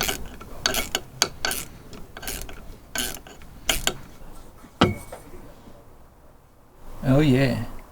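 A ratchet tightens a bolt on a motor prop mount, a series of sharp clicking bursts close up, some quick and some spaced, followed by a pause and a brief muffled noise at the end.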